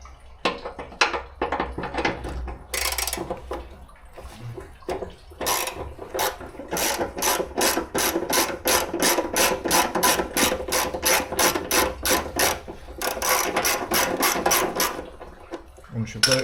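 Rapid ratchet clicking comes in dense, regular bursts while a bolt is undone on a car stripped down for restoration, with close, loud clatter and short pauses between runs.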